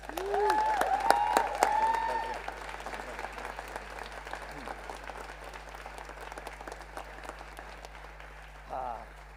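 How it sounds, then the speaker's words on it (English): Audience applause at a high school graduation ceremony, sustained clapping that starts loud and gradually tapers, with a voice talking over the opening seconds and a steady hum underneath. "Please, could we give Ms. Diana a large round of applause?"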